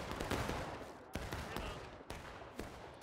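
Union musket volleys and scattered rifle fire in the Civil War game War of Rights, East Woods battlefield: a thick crackle of gunfire with two sharp, loud volley bursts about a second apart, no voices.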